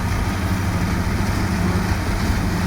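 A tractor engine runs steadily while driving a mulcher, with a low, constant rumble and whir, no pauses or changes in pace.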